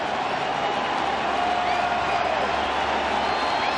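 Steady roar of a baseball stadium crowd at a World Series game between the San Francisco Giants and Kansas City Royals, a dense continuous wash of cheering voices heard from within the stands.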